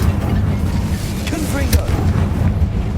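A fire spell is cast in a fantasy wizarding game, giving a steady roaring whoosh of flame with brief bright flares and low rumbling over dense game noise, heard close and loud for the whole stretch.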